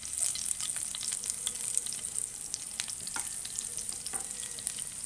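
Garlic, round red chillies and julienned ginger frying in ghee, a steady close crackling sizzle with occasional sharper pops, no voices.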